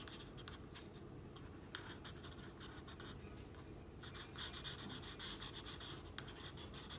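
A marker drawing and coloring on paper makes soft, continuous scratchy strokes, with brisker rapid back-and-forth scribbling toward the end, close and quiet.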